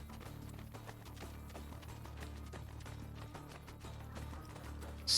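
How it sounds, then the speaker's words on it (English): Quick rhythmic hoofbeats clop faintly and evenly, a horse galloping away in Assassin's Creed Brotherhood over a low steady background hum, with no talking. "The horse just goes away."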